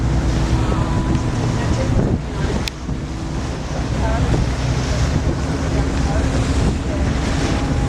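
Ferry engines rumble beneath heavy wind buffeting and rushing water during an Australia Day ferry race, a constant loud wash of noise out on open water.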